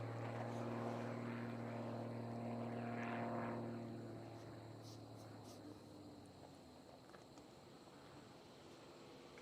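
Unlimited-class aerobatic airplane decelerating into a spin at a power competition: a distant propeller engine drones steadily, then fades and softens partway through, with faint background noise.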